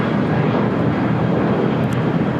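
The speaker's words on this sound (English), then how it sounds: "1147 taking off to Seattle on a 737-800" An Alaska Airlines Boeing 737-800 takes off from LAX bound for Seattle, its jet engines a loud, broad, continuous roar with no talk over it.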